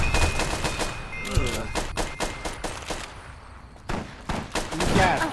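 Rapid gunfire from the video game Fallout New Vegas, a dense volley of sharp shots in quick succession with a few metallic pings, loud and close throughout.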